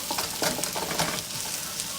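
Broccoli frying in a hot pan for a stir fry gives a steady, close sizzle with light crackling throughout and no talking.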